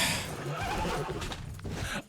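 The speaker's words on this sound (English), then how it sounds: "This fucking horse!" Horse neighing in a loud, drawn-out whinny that wavers for about two seconds, close by, with no voices over it.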